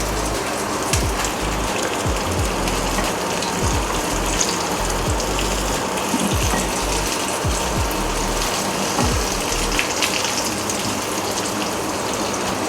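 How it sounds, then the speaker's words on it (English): Rava-coated pomfret fish fries in hot oil in a pan over a medium flame, producing a dense, loud, continuous sizzle with crackling pops throughout. "We are going to fry this on a medium flame."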